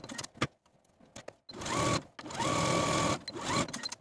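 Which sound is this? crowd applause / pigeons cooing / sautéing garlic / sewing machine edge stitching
sewing machine edge stitching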